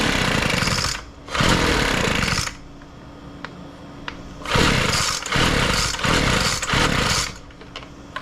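A thrift-store leaf blower's small two-stroke engine runs at half choke, roaring loud and close in bursts that cut out and surge back, a buzzing, uneven idle between revs.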